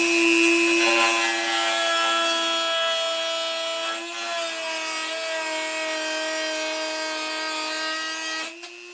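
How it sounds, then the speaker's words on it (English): A small sliver is cut off the end of a metal bolt, producing a steady, close, whining cutting sound that holds for most of the stretch before it stops abruptly near the end. "I only cut a little 16th inch piece of that bolt off."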